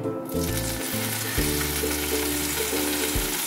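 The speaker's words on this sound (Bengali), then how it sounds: "আমি এবার ম্যারিনেট করা মাংসটা দিয়ে দিচ্ছি খুব আলতো করে।" Marinated chicken pieces drop into a hot pan for a Lucknowi masala chicken and fry with a loud, steady sizzle that keeps going, close by, with no talking over it.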